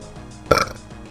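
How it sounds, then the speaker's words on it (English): A single loud, close burp from a player during a Pokemon Platinum session, a short guttural belch that bursts out suddenly and fades within a fraction of a second against a quiet background. "I just burped"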